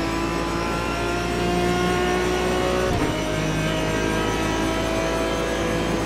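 Aston Martin DBR9 GT1 race car engine in the iRacing sim, a steady loud mid-pitched drone with a brief gear-change dip midway, continuous and alone without talk.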